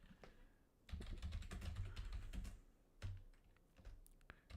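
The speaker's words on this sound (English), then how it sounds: "I have to type something." Keys clatter on a computer keyboard during command-line work, a fast uneven burst of close, crisp typing with short pauses and a few separate taps near the end.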